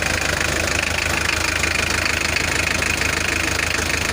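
A car engine with a heater-wired ignition, cold and hard to start in the morning, runs at a steady loud idle with a rough knocking throb and no pauses.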